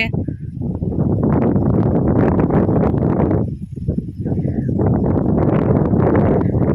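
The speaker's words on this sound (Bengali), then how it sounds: "প্রচণ্ড হাওয়া হচ্ছে" Strong wind roars continuously against the microphone in open country beside a large canal in the Sundarbans, with heavy buffeting gusts that briefly ease before surging back.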